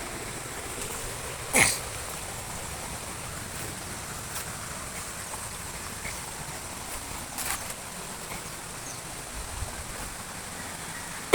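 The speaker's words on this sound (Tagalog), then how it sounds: "Ayan, mga ilog yan." Flowing mountain river water rushing steadily in the background during an outdoor hunting trek, a continuous broadband wash with a couple of brief sharper splashes or knocks.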